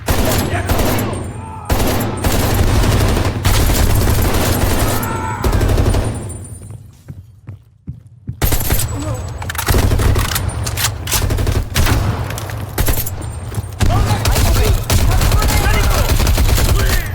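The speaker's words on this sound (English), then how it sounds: "They're shooting at us!" Sustained gunfire from a Call of Duty Black Ops Cold War campaign battle, dense bursts and rattling volleys running nearly continuously and loudly, with a brief lull partway through before the shooting resumes.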